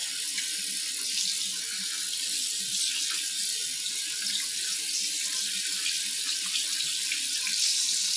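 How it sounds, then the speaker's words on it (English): Soapy hands rinsed under a running tap, a loud steady rush of water splashing into a sink with small irregular splashes, no talking. "So go ahead and rinse it off into the water."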